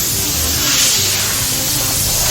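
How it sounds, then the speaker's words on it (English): A deep fryer warming up, a steady close hiss of oil with constant broadband sizzle and no pauses. "Got the deep fryer warming up"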